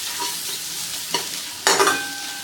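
Spices and chopped coriander stirred in a frying pan for dhaba-style shev bhaji, a steady sizzle broken by a couple of sharp utensil scrapes near the end, close and fairly loud with no talking.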